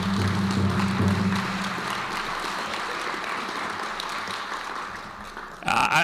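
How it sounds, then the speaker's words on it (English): Audience at a school district Indigenous graduation ceremony applauding, a steady roomful of clapping with a low voice or drum-like tone early on, tapering before a sudden louder rustle or clatter at the end. "So go ahead and join me in a round of applause."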